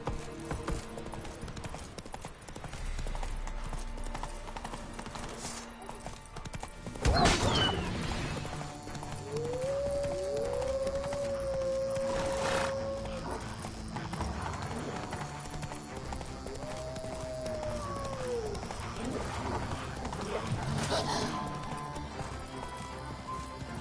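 Roach the horse gallops in the Witcher 3 video game, with steady hoof clip-clop, a couple of loud thuds, and a brief neigh midway under faint background game sound.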